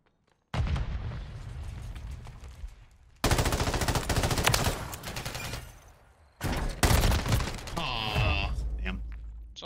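Rapid bursts of gunfire from a shooting video game round rattle loudly and close, with dense automatic fire and booming shots in several bouts separated by brief pauses.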